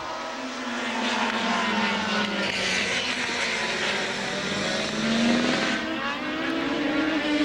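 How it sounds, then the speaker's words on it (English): Formula 3000 race cars sweep past at the Spa circuit in Belgium, engines whining loudly with pitch rising and falling as they pass, then fading in a sustained roar. "Nearly got his nose up the gearbox then of Pantano's car"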